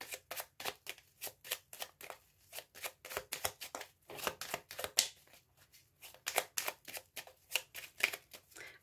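Tarot cards shuffled by hand for a reading, close up: a steady series of quick riffling, flapping bursts repeating in a loose rhythm, with no talk over them.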